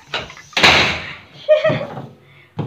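A door bangs shut sharply and up close, then knocks again more softly a moment later, with a brief murmur of a voice between the impacts.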